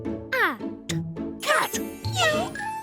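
A cartoon cat in a children's alphabet show gives a few short, bending meows amid lively voices and music, close and clear.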